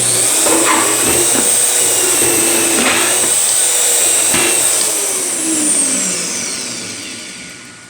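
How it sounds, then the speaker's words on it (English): A drill boring a hole to set depth, a loud steady broadband whine running continuously with a few brief surges, easing slightly toward the end. "Going ahead and just drill it."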